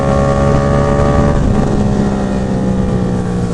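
Yamaha MT-07 motorcycle engine on the road with the throttle let off, a loud steady drone with strong wind rush over the microphone throughout, no talk.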